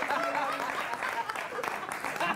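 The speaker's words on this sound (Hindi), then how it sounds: "ताली बजाओ।" An audience at a live comedy poetry show claps, with applause running throughout under a speaking voice.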